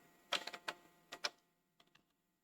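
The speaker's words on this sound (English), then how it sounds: "I just type my 90 here." Faint, close keystrokes on a computer keyboard, about six quick taps in two small clusters followed by a few softer clicks, with no voices.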